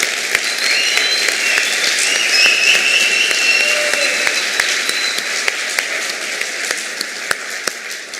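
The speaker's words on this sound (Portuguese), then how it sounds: "uma salva de palmas para vocês" Audience applause at a live motivational talk, a steady wash of many hands clapping close and loud throughout, with no voices over it.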